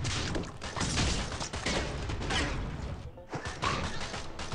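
A satellite strike in the video game Swamp Attack 2: a loud, dense crash of impacts and debris rumbling on for several seconds, briefly dipping before another burst of smashing noise.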